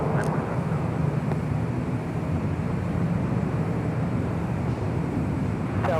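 A Boeing 757 airliner on final approach about to touch down at LAX; a steady, loud, broad engine roar with wind rush holds throughout, with no voices.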